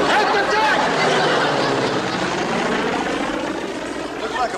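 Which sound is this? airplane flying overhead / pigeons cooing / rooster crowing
airplane flying overhead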